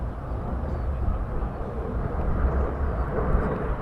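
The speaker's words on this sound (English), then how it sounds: "You can probably hear them coming over the top now, guys. And they are F-35s." Two F-35 fighter jets pass overhead at RAF Lakenheath, a loud, steady low roar of jet engines that fills the air without a break.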